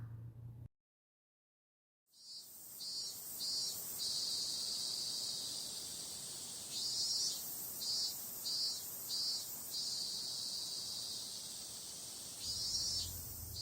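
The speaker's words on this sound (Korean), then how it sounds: "나무에 매미가 붙어 있네요." A cicada clinging to a tree sings a loud, shrill buzzing drone that swells and dips in repeated pulses, rising out of a brief silence and continuing steadily alone.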